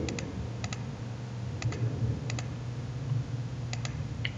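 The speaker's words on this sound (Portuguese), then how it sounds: "vamos digitar a senha aqui" Someone types on a computer keyboard to enter a password, producing a few quick, close clicks in small pairs and clusters over a low steady hum.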